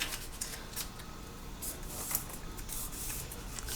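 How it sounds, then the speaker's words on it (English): Crisp paper rustling and creasing as the sides of a handmade paper pocket insert are folded along score lines, close and fairly loud in short, repeated scraping strokes. "you're gonna go ahead and just fold the sides"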